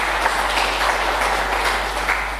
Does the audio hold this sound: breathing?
no